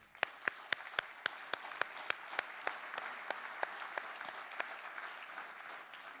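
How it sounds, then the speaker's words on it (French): Audience applause at the opening of a French conference, a broad wash of crowd clapping with one loud, regular clapper standing out near the front, steady for several seconds before easing slightly. "Et je vous propose de vous applaudir."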